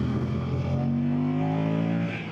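2025 Moto Guzzi Stelvio motorcycle engine pulling hard under acceleration on a road ride, a loud, close, rising engine drone that holds steady for about two seconds before easing off.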